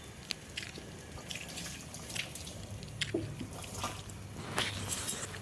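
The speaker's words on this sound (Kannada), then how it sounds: "ಒಂದು ಸ್ವಲ್ಪ ಎಣ್ಣೆ ಹಾಕಬೇಕು. ಸನ್ಫ್ಲವರ್ ಆಯಿಲ್ ಹಾಕ್ತಾಯಿದ್ದೀನಿ." Sunflower oil poured onto a methi chapati cooking on a pan over a low flame, giving a soft, continuous crackling sizzle with faint liquid drips, quiet and close.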